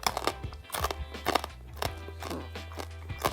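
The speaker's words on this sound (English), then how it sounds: "What a crunch. The bark has really nice crust." Crisp crunching bites into the crusty bark of a smoked BBQ chuck roast, several sharp close crunches in uneven rhythm, with brief chewing between them.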